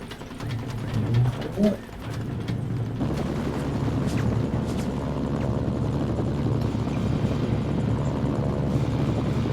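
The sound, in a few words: helicopter in a video game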